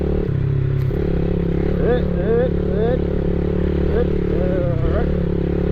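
A motorcycle rumbles along a rough one-lane dirt track near Chinchilla, Queensland, its engine a steady, close, low drone with slight rises in pitch, while a rider talks over it throughout.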